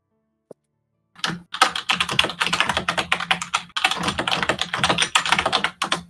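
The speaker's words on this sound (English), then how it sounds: "Then Sulphira shall hammer on her keyboard" Fast, forceful typing on a computer keyboard, a dense rapid clatter of keystrokes after a single tap and a moment of quiet, with brief pauses.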